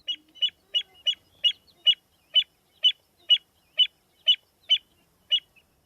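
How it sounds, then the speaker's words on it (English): American avocet giving a steady series of about thirteen sharp, evenly spaced pleek calls, clear and fairly close with no other sound behind them. "The American avocet goes pleek,"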